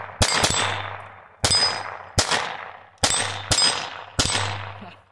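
Taurus TX22 .22 pistol fired at 4-inch steel plates from 10 yards: six sharp shots, each followed by a ringing metallic clang, spaced unevenly about a second apart, loud and close with no talking.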